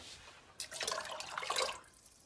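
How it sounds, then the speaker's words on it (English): Water poured from a can into a cooking pot splashes and gurgles for about a second, a bright liquid rush that starts abruptly and tapers off in a quiet kitchen. "And I'm going to pour it into the pot."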